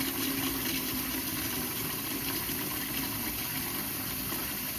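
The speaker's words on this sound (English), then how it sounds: "So we're going to pour water in there." Water pours steadily into a pot of callaloo in a home kitchen, a constant close rushing hiss that holds at an even level for several seconds without talk.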